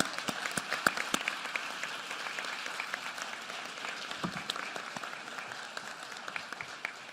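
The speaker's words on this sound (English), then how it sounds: "Give them a round of applause." An audience at a superintendent's State of Public Education address in Philadelphia claps, a faint, distant patter of many hands with scattered sharper claps throughout.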